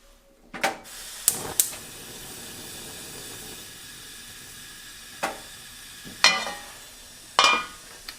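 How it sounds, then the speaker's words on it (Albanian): Food frying in a little oil in a pan over medium heat for a traditional Albanian leek pie, with soft steady sizzling broken by several sharp crackles and spits and a few louder bursts, no talking. "I fërgojmë me pak vaj."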